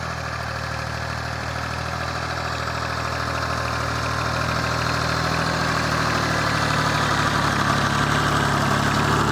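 A Chinese Zubr 240 tractor runs with a 1.6 m Japanese rotary tiller working a ploughed field. The engine drones steadily and loud with a constant mechanical hum that rises slightly toward the end, and there is no talking.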